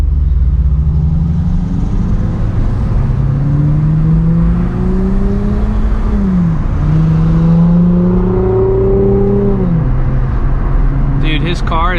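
A Nissan 350Z's exhaust drones steadily at idle and low revs, the deep tone rising and falling smoothly throughout, close and loud, with a brief higher whine near the end.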